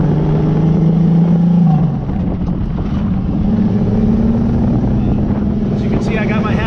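Turbocharged Honda J35A4 V6 car engine running at 12 psi boost with a torn wastegate, a loud, steady drone that shifts pitch as it pulls, heard from inside the car with a voice talking over it.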